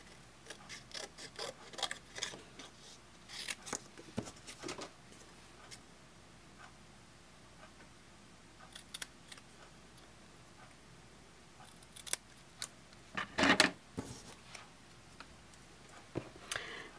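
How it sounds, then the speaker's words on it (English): Scissors cutting paper around the outer edge of a card piece for a papercraft octagon box, with scattered soft snips and rustles in irregular bursts, close and quiet, without speech. "I'm going to cut around the outer edge again, leaving a little banner, leaving about an eighth of an inch border."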